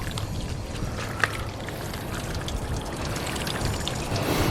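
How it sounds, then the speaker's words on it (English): Water poured over a corroded positive battery terminal on a Honda or Acura, a steady close splashing wash that runs continuously without pause. "Pouring some water on here."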